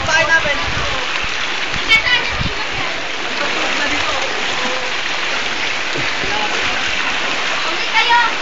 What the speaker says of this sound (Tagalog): Ray, lalim na ng tubig.